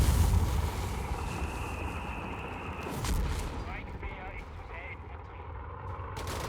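Nebelwerfer rocket barrage in a Company of Heroes 3 match: heavy booming blasts and rumbling explosions under a steady noisy battle din, with a sharp impact near the middle and whistling tones afterward.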